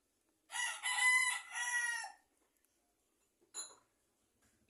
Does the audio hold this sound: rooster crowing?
yes